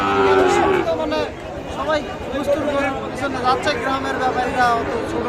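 Shahiwal bulls and calves at a busy cattle market in Raniganj, with a drawn-out moo near the start and more lowing scattered through a steady din of crowd chatter and nearby talk.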